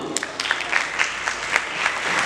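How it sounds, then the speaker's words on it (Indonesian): Students at an Islamic boarding school orientation clap on request, a short burst of brisk, rhythmic group clapping at moderate distance with some crowd noise mixed in. "tepuk tangan dulu."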